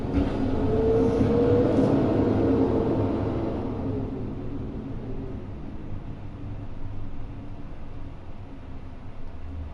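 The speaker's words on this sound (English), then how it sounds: "I don't control when the dump trucks decide to pick up our freaking garbage in the back, but that's what you guys are hearing" Dump trucks collecting garbage out back produce a loud, steady mechanical rumble that gradually eases and then continues at a lower level, with no voices present.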